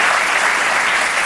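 Short stretch of steady, dense applause from a large audience, loud and uniform with no voices standing out.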